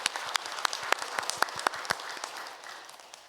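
A church congregation claps during a Christmas worship service, with sharp, fairly loud individual claps over a softer wash of applause that gradually fades out.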